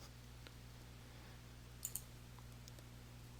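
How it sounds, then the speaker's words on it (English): Two quick, faint computer mouse clicks close together on a dialog box's OK button in Microsoft Excel 2013, set over a steady low electrical hum with no talk. "click the OK button at the bottom of the dialog box"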